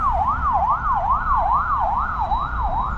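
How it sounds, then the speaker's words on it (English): An ambulance siren wails on a street in Sofia, Bulgaria, its two-tone rising and falling cycle repeating steadily and loudly over traffic rumble, with no voices. "Oh, ambulance."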